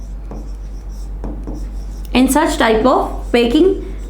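Pen or chalk writing out notes during a chemistry lesson on close-packed structures: a few short scratchy strokes at close range, followed by a voice talking over the writing.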